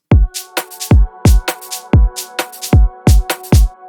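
A crisp future garage electronic beat with punchy kicks and bright, hissing shaker hits in a quick, syncopated 2-step pattern over sustained synth tones.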